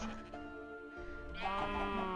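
Video game sheep bleat in quick succession, a wavering nasal call followed by a louder, higher bleat, clear and close with no talking.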